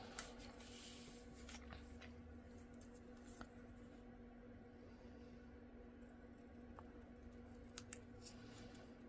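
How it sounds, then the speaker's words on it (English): Scissors fussy cutting around small paper craft pieces for a Christmas nests project, giving soft, quiet snips and paper rustles spread over a low steady background hum, with a few slightly sharper clicks. "And then we're going to fussy cut it out."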